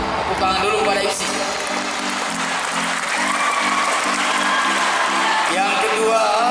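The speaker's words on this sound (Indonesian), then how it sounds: "Tepuk tangan dulu pada IPSI" Audience applause for the IPSI pencak silat organisation at a regional championship grand final ceremony, a steady sustained clapping from a crowd with faint cheering, heard alongside a low droning tone throughout.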